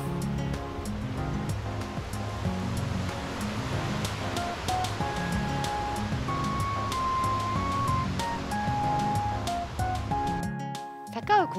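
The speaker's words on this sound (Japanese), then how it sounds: "涼やかな川音を聞きながら" A river flows beside a steep downhill path near a shrine in Atami, a dense, steady rushing of water that fills the whole clip, with faint scattered sounds over it that cut off abruptly at the end.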